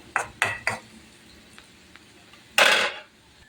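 A lid goes back on a pot of mung dal cooking with banana stem: a few quick clinks of metal followed by a louder scraping clatter as it settles, close and with no talk.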